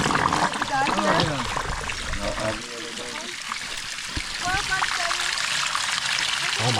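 Hot spring water splashes and trickles as feet go into a foot bucket at a historic hot springs, with voices talking over the steady watery sound.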